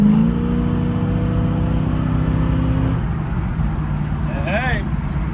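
A 1968 Pontiac Firebird convertible's engine runs steadily nearby with a sustained, loud drone that shifts pitch partway through, while people talk over it.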